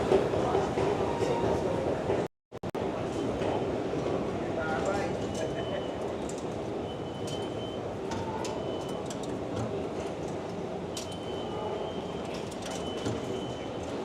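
Busy New York City subway station ambience in Manhattan, with a steady rumble and rattle of trains, distant squeals and a brief cutout, plus people talking in the background.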